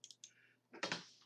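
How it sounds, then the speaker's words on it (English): Computer mouse clicks sound at close range as a few quick, light taps early on, followed by a denser cluster of louder clicks toward the end. "double left click."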